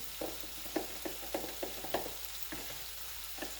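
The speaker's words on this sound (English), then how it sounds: "A smooth batter with my egg, and you want to stir this up good" A whisk or spoon stirs a batter of egg and milk mixed into dry ingredients, giving a close, quiet series of rhythmic scraping taps against the bowl, with no talking.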